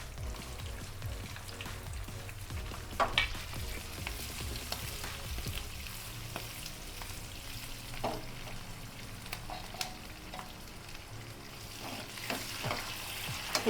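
Oil sizzles steadily as onions fry in spice masala for chole, with a spoon scraping and stirring through them and occasional louder clinks against the pan.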